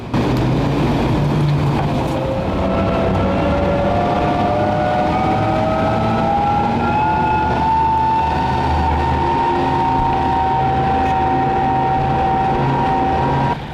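Heavy engines of new BTR-3 armoured personnel carriers being tested, a loud continuous diesel roar with rising whine and rumble, steady and close throughout.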